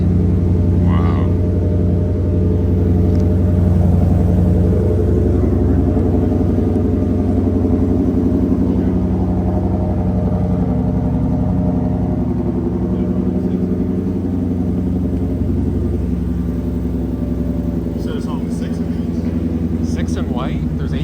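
A Hertz Shelby GT500-H with a 900-horsepower engine idles after a cold start, a deep continuous rumble close by under people talking.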